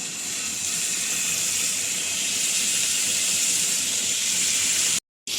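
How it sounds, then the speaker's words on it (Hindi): Chicken shashlik skewers sizzle in hot oil with a constant, loud, hissing fry that runs evenly and then cuts off abruptly near the end. "अब इसमें रखेंगे चिकन स्कीवर"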